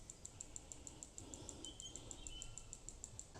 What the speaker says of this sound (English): Different sort of birds.